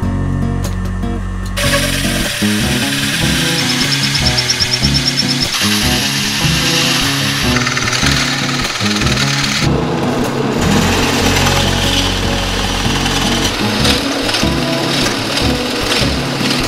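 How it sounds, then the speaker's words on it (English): Loud, whining power-tool bursts boring into wood, several separate drilling passes with brief pauses between them, close to the microphone. "So let's mark out all the holes and drill away."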